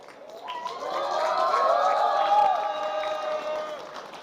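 Children at a community cricket gala cheer and shout together in a sustained burst of excited voices, swelling to a peak midway before easing off, with no talk over it.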